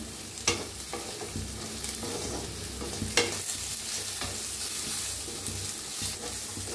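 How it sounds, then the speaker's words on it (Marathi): Okra stir-fried in oil in a kadhai, a soft continuous sizzle punctuated by a few sharp spatula scrapes and knocks. "मिक्स करून भाजून घेऊया छान अशी भेंडी"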